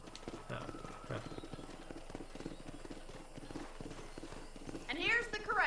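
Horses in a ranch corral in the video game Red Dead Redemption: a quiet clip-clop of hooves under talking, ending in a loud, close neigh.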